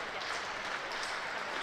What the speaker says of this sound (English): Really good, generous applause and cheers.